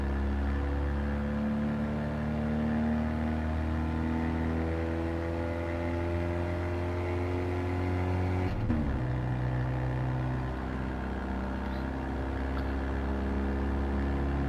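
A classic car, a VW Beetle, Samba or Fiat 500, drones steadily in third gear after a downshift, a close, even engine hum with one brief shift-like jolt midway and no talk.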